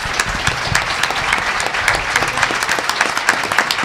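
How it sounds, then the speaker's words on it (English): An audience at a Colorado State Treasurer candidate forum claps for the candidates, a loud, close, sustained round of applause with many hands beating steadily throughout. "Let's give all of our candidates a round of applause."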